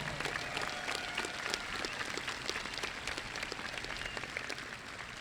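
Applause from an audience at a high school graduation ceremony, a steady wash of many hands clapping throughout, fairly distant and even in level, with no talking over it.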